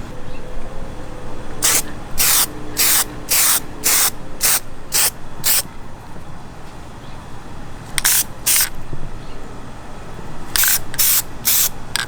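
Short hissing bursts of Plasti Dip from an aerosol can coat Ford F150 emblems, fired in quick back-to-back pulses, then pausing and resuming, close up over a steady low background hum, no talking.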